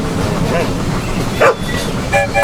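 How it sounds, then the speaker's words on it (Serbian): A dog gives a couple of short barks, quick sharp yaps spaced apart, over a continuous low rumble of a train. "Pas."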